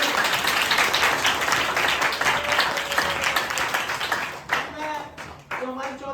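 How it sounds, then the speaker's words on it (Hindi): Audience at a Republic Day celebration applauds a guest, a dense burst of clapping that carries on for several seconds and then fades into a voice talking over the tail. "तो ये मैम के लिए भी एक बार तालियां बजाइए"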